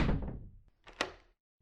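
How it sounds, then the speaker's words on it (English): A door is struck once with a dull knock, close and fairly loud, then a second sharper knock follows after a short pause, and the sound fades into silence. "Knock, knock."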